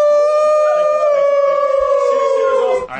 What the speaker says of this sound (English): I saw that your dog was going crazy